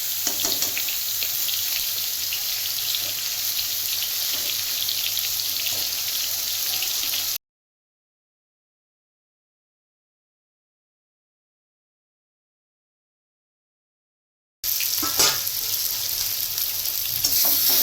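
Bata fish going into hot spiced oil gives a loud, steady sizzle that cuts off into a long silent gap midway, then resumes just as strongly.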